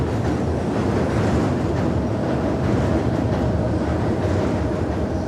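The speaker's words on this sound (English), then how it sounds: "So here we are under the elevated train line above Frankfort Avenue." An elevated train runs on the line above Frankfort Avenue, heard from underneath as a loud continuous rumble and roar of wheels on rails that fills the whole stretch without voices.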